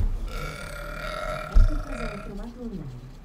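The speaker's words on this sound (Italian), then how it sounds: "Alexa, smetti di ruttare." A smart speaker plays a loud, long burping sound, a single deep belch rising and falling in pitch, with people talking around it.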